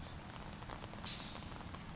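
Rain coming down steadily on a golf course in Granada during a high school match, a dense continuous hiss of falling drops with a brief brighter splash partway through.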